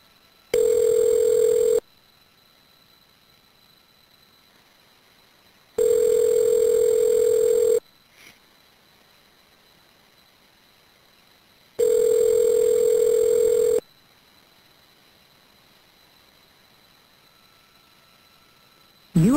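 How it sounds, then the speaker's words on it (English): Prison phone call connecting: three long, loud, steady ringback tones separated by silent gaps, each lasting about a second, with a faint steady line hiss between them. "The number is now being dialed."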